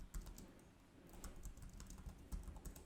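Steady typing on a computer keyboard as a short prompt is entered for Photoshop's AI generative fill, with quick irregular key clicks close by and a few brief pauses, no voices.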